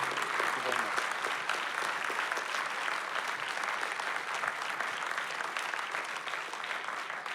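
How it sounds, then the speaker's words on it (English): A library audience gives warm applause for Thomas Dolby, with sustained, even clapping from a fairly close crowd and faint voices mixed underneath. "ladies and gentlemen, a big round of applause for the great Thomas Dolby"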